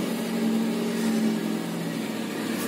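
A Peugeot 206 1.1 petrol TU1JP engine with about 500,000 km runs at a steady idle, a low, even hum with exhaust rumble, fairly close and continuous, with no voices.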